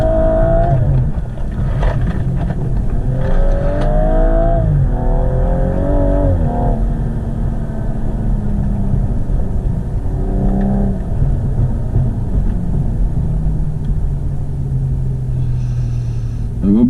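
A BMW F21 M135i pulls hard along a road lap, its engine rising in pitch through several gear changes and then settling to a steady drone, loud in the cabin with someone talking over it.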